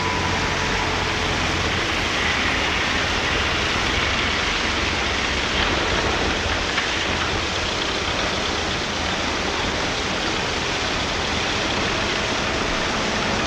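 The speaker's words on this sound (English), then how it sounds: "A motor bus." Motor bus passing in a street in an old archival recording, a broad, even roar of engine and traffic under heavy hiss, fairly loud throughout.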